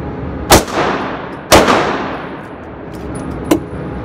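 Three sharp shots from a Taurus PT1911 pistol on a shooting range, loud and close, spaced unevenly with the first two about a second apart and the last after a pause, each trailing off in a ringing decay.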